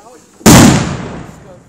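A large New Year's Eve firework bursts with one sudden loud boom that rolls into a long crackling decay, heard outdoors in Bratislava, with voices nearby.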